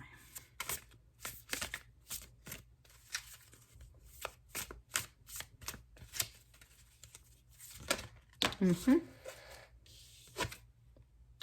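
Tarot cards are shuffled by hand close up in quick, uneven bursts of riffling and flicking, separated by short pauses, with one denser rustling flurry near the end and no talk.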